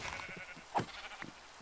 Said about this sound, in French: Il y a 3 moutons, c'est parfait.